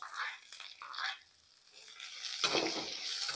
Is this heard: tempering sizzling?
yes